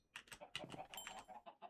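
Chickens in Minecraft cluck softly in a quick, irregular string of short calls, faint and fairly close.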